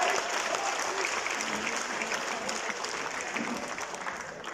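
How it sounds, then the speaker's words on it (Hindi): An audience at a poetry gathering claps in a full, sustained round that fades slightly toward the end. "अपने लिए भरपूर तालियां बजा लीजिए।"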